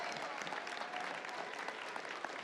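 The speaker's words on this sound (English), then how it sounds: "They deserve a loud applause." Faint, steady audience applause at a high school graduation ceremony, a distant continuous patter of many hands clapping.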